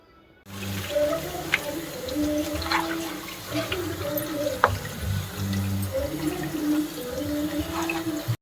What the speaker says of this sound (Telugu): మంచిగా కడిగి ఇదే జల్లి జలిబుట్లో కొడేయి నీళ్ళన్నీ ఉట్టిపోతాయి